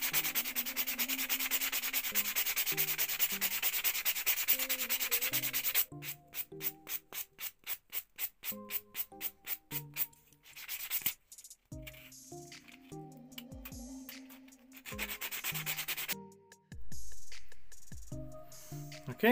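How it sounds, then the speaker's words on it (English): A wooden paintbrush handle is sanded into a popper lure blank, with close, loud sandpaper rubbing that is continuous at first and then breaks into quick rhythmic back-and-forth strokes and longer passes. "Now, it will sand a little bit this part."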